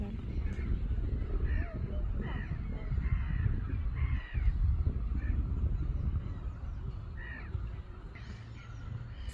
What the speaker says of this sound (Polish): Słychać mewy.